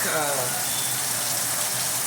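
Tap water gushes steadily in a kitchen sink while raw shrimp are cleaned under it, a loud, close, continuous splash and hiss throughout with no break.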